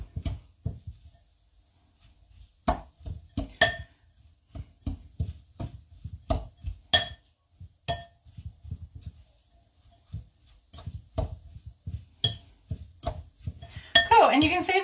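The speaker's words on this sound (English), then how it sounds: "So give it a really good" Beetroot and carrot salad stirred in a bowl, a series of irregular clinks and scrapes of a utensil against the dish, close and fairly crisp, with a brief clatter at the end.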